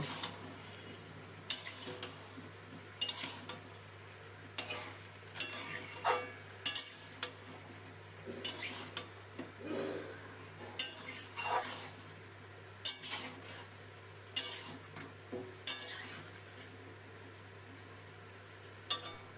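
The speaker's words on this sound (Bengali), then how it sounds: "আলু মাংসের সাথে কিছুক্ষণ ভেজে নিয়েছি" Potato pieces and chicken fry together in a pot for a chicken stew, with repeated metal clinks and scrapes of a spoon stirring against the pan over a soft, steady background hum.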